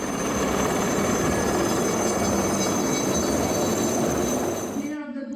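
Military helicopters fly low over a passing out parade at the Indian Military Academy in Dehradun, showering flowers: a loud, steady rotor and engine roar that holds throughout, then cuts off sharply at the end.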